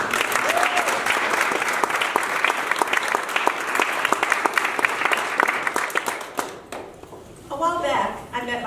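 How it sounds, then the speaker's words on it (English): A graduation audience applauds for a graduate with steady, dense clapping that holds for about seven seconds before thinning out, and a voice begins speaking over the tail. "Let's give her a round of applause."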